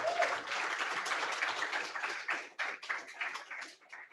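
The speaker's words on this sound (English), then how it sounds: "You can keep that round of applause going until she gets to the microphone." Audience applause at a public event on waste policy, as a speaker is called up to the front: steady clapping from a crowd, fairly close and dense, gradually thinning and becoming more irregular toward the end.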